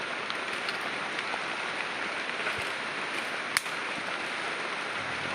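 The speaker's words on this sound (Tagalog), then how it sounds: "Pero malakas ang ulan ngayon" Heavy rain falls steadily outdoors, a constant dense hiss of drops with no pauses and a single sharp knock partway through.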